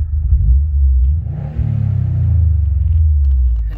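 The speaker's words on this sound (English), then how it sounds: "A nice sounding exhaust." A Subaru Impreza engine revs up through a deep exhaust, rising in a throaty rumble, dipping briefly, then holding a steady, loud burble.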